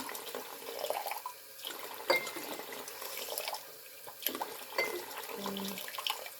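Cold or warm tap water runs steadily into a container for cleaning an electric toothbrush, a quiet splashing stream with a few louder surges and no talking.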